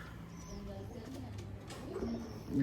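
A Teddy pigeon gives soft, low cooing that stays faint and close, with a slight rise in level at the end.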